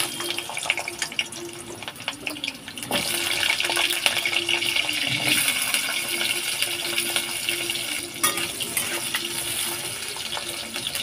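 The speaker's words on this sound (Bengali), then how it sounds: "আলু ভেজে নেব।" Potatoes sizzle in five tablespoons of mustard oil in a wok over a low to medium flame, a steady, fairly loud hiss that runs the whole time with small crackles and pops and no voices.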